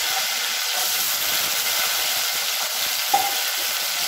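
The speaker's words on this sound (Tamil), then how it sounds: "இப்போ இதில் பார்த்தீங்கன்னா 1 கைப்பிடி அளவுக்கு சின்ன வெங்காயம் முழுக்கா அப்படியே சேர்த்துக்கலாம்." Whole shallots drop into a tempering of dried red chillies in hot oil, making a loud, steady frying sizzle with a single brief clink near the end.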